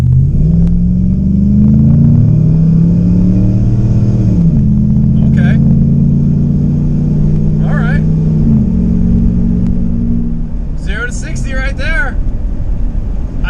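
A Jeep Commander XK V8 with a Superchips tune idles with a deep, steady rumble and swells through a couple of revs, while a person talks over it with some chatter near the end.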